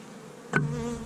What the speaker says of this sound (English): there's a drone bee.